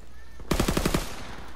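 An M38 submachine gun fires in Call of Duty: WWII, a single quick burst of about six rapid shots, loud and close over low background game noise.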